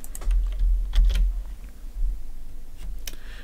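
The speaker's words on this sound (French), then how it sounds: "Je tape entrée." Clacking keys on a computer keyboard in quick irregular bursts, fairly close, with a few isolated heavier keystrokes like the Enter key near the end, and no talking.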